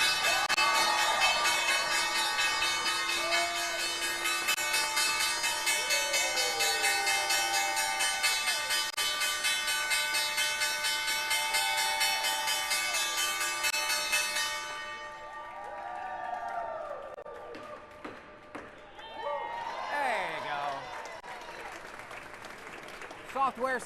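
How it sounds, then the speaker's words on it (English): The closing bell on the New York Stock Exchange trading floor rings continuously for about fifteen seconds amid applause and crowd noise, then fades as cheering and voices carry on in the busy hall. "Time now for the Nixon closing bell."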